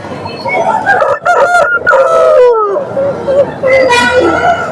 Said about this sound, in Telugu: కూతులు వేస్తూ ఉన్నాయి